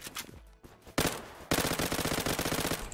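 Rapid automatic gunfire in the online shooter Zula: a short shot, a pause, then a sustained machine-gun burst of fast, evenly spaced rounds, loud and close.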